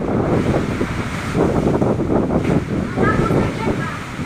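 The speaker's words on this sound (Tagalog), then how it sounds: "Kusog na kayo hangin" Strong typhoon wind from Typhoon Odette buffets the microphone in a steady, loud roar with gusty surges, mixed with a rushing, surf-like wash.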